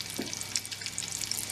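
Shami kebab patties shallow fry in a pan of oil, a faint continuous crackling sizzle with scattered small pops, heard close and alone.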